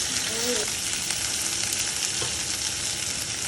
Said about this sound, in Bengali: পেঁয়াজ আর লঙ্কাটা একটু ভাজতে হবে।